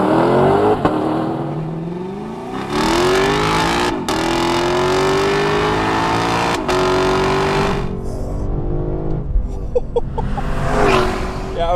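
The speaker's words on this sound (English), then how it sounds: "we had some wheel spin there, a little bit of wheel spin." A Lexus car accelerating hard with wheel spin, its engine note climbing through loud sustained revs with brief shift breaks, then easing off as tires and engine settle; close and dominant, with faint talk near the end.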